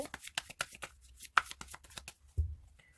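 Tarot cards being shuffled and drawn by hand, a rapid run of soft crisp card flicks and slaps close by, ending in a duller thump as a card is set down, no talking.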